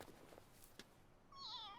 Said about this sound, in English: Oh, a kitten?